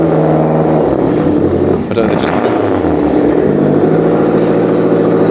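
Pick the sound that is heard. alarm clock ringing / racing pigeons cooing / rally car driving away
rally car driving away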